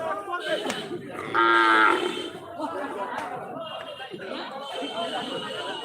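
Cattle low loudly at a crowded rural cattle market in Raniganj, Sunamganj, one long close moo standing out above a busy din of people talking nearby.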